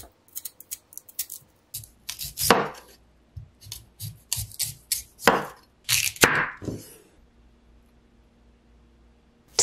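A knife cuts a peeled kohlrabi into 0.8 cm thick slices, a series of crisp, close crunching strokes arriving in irregular bursts, with quiet pauses between them and no speech.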